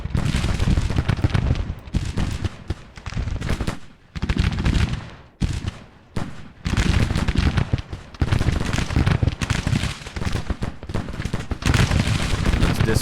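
Bursts of gunfire and artillery in Grand Tactician: the Civil War, loud volleys rolling in repeated clusters with brief gaps between them, close and dense, no talk.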